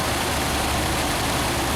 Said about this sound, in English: here's the other side of the engine. Probably idling slightly too high